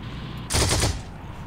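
A short burst of rapid automatic gunfire in the battle game Heroes and Generals, a dense rattling volley of about half a second, moderately loud over low background ambience.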